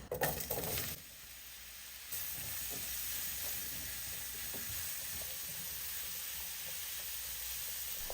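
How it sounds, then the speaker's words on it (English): Portobello mushrooms sauté in plenty of oil in a pan for chicken marsala. A brief clatter opens, then a steady, close, continuous sizzle and hiss runs without pause. "once you start to saute the mushrooms and they start to break down, it's going to release liquid"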